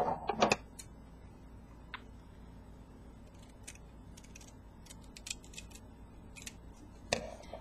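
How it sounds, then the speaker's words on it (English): Scissors trimming the tag off a white washcloth: a few soft snips and clicks scattered across a quiet room, with a louder handling rustle at the start and near the end. "The first thing I'm going to do is take the white washcloth, and I'm going to trim off the tag."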